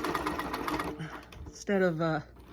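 A quilting machine stitches fabric in a steady mechanical whir under a person's continuous talking, followed by a brief hum toward the end.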